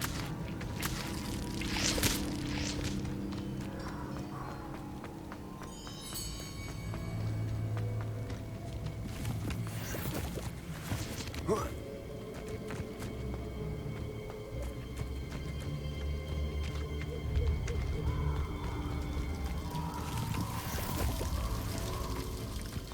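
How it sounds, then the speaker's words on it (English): A waterfall in Hogwarts Legacy pours with a steady, continuous rush beneath game music and scattered effects, with occasional narration. "The waterfall."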